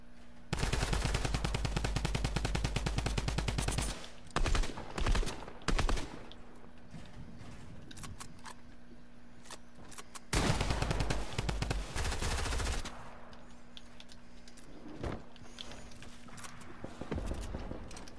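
Video game gunfire from an enemy player sounds as rapid automatic bursts, loud and sustained for several seconds, stopping, then returning in another long volley, with a few single shots in the pauses.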